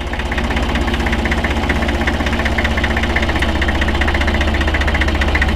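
A 1965 Deutz D 40 tractor engine runs steadily and loud up close, a low, even knocking diesel chug with a constant rhythmic throb and no talk.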